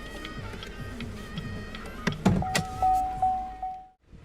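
Electric power windows of a 2017 Cadillac ATS Coupe whir as their motors run, a couple of short mechanical hums with clicks, followed by a high steady tone before it cuts off.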